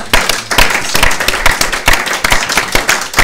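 A church congregation claps together in praise of the Lord, loud sharp hand claps falling in a quick, uneven rhythm without a pause, close and busy, with no voices on top.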